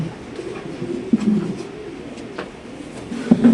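A Lahori pigeon cooing at a pigeon farm, low soft coos in short bursts, one early and another near the end, over quiet background noise, close by.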